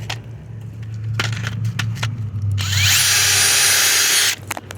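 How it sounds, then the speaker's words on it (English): A power drill whines steadily, close and loud, rising to a harsher grinding pitch partway through as it bites into the bottom of an old boat. "I'm gonna drill a hole in the bottom of this thing and let the water out"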